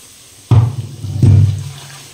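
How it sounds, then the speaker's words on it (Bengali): Water from a rinsed bowl is poured into a mixer grinder jar holding spices and ground spice powders, making two short splashing gushes a moment apart, close and fairly loud, with no talking. "এবার এই মিক্সিতে ধোয়া বাটির জলটা দিয়ে দেবো।"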